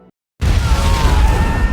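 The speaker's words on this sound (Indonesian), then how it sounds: "tiba-tiba bom yang sudah dipasang meledak" A planted bomb detonates in an action film scene: after a brief silence, a sudden loud blast erupts and rolls into a sustained deep rumble with crackling debris, heavy low end throughout.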